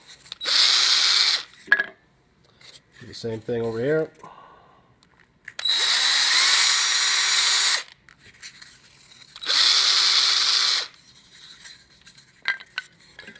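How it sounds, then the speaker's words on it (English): A power drill boring holes straight through a workpiece while building a claw, heard in three loud sustained bursts of whirring, with someone speaking briefly between them. "Drill a hole straight through,"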